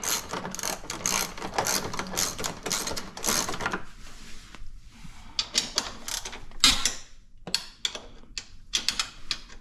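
A ratchet wrench turns out 13 mm bolts on the bumper of a Polaris Sportsman 1000 with rapid, close clicking strokes in bursts, short pauses between them and a louder clack partway through.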